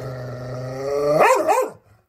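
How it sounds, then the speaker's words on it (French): A dog growls menacingly on a mountain trail, a sustained rumbling growl that rises into a short snarling bark and then stops, close and alone with no talk. "subitement le chien Mistral s'arrête et gronde méchamment"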